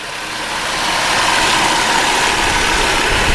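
A 1991 Toyota Soarer 2.5GT-T twin-turbo engine idles close by with a steady, smooth hum that rises slightly at first and then holds level, with no voices.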